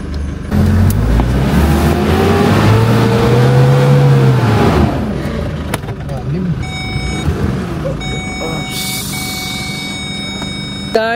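A Trailblazer 4x4 offroad vehicle revs hard through deep mud at a winch point, its engine rising and falling loudly for several seconds before settling to a lower rumble with beeps and voices in the background.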